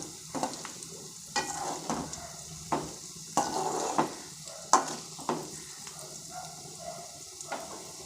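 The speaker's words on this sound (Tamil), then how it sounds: "இப்போ நான் கொஞ்சம் எண்ணெய் ஊற்றி அந்த காலிஃப்ளவரை ஃப்ரை பண்ணி எடுக்கிறேன்" Cauliflower pieces fry in oil in a pan with a steady low sizzle, broken by repeated scraping and clacking strokes of a spoon or spatula stirring them, close and without speech.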